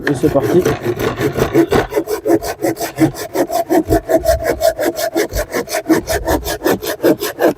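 A hand saw cuts through a piece of wood braced near a table, rapid regular back-and-forth rasping strokes up close, with a few spoken words at the start.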